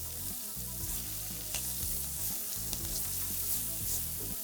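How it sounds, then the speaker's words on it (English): Diced shallots sizzling in melted butter in a pan, a steady close hiss and crackle with a few faint stirring touches, no voices. "we're gonna melt some more butter and add in some diced shallots"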